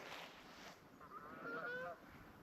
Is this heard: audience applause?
no